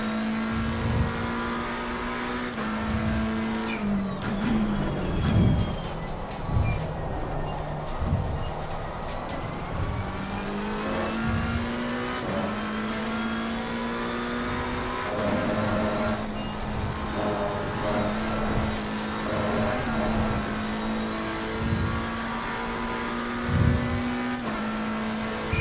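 Race car in Live for Speed on the Nurburgring, a steady engine drone rising and falling through gear changes and turns for the whole stretch, with no talking.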